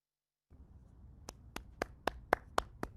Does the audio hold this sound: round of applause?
yes